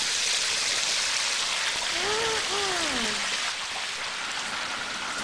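Hot oil in a turkey fryer boils hard and foams over, a loud, steady hiss of bubbling close by that runs through the whole stretch, with a voice briefly cutting in around the middle.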